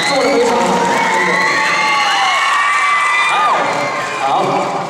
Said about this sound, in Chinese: 我们给自己一个掌声好不好？